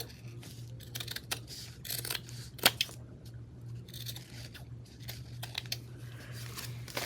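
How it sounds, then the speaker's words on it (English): Scissors snip and trim a paper tag for a junk journal, a series of faint, irregular cuts and crisp paper rustles close by, with no talking. "I'm going to turn it over and I'm going to trim on the bottom."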